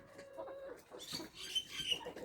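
A flock of chickens in a small home garden cluck and chirp softly as rice is thrown to them. The calls are faint and overlapping and carry on through the whole clip.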